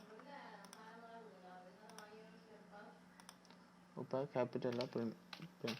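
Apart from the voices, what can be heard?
typing on a computer keyboard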